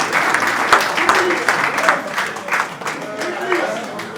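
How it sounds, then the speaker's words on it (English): An audience applauds at a speaking evening event, dense and steady clapping filling a hall, with talking faintly mixed in throughout. "Please a round of applause for him"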